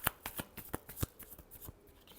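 Tarot cards are shuffled by hand, a quick run of crisp riffling snaps and flicks up close, fairly quiet, with no talking.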